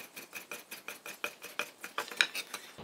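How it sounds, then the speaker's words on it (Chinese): A knife rhythmically chopping lean pork, with a little fat, into fine mince for a Sichuan home-style dish, steady close taps on a board at about four strikes per second with no talk. "这个肉呢，我们直接把它切成很小很小的末"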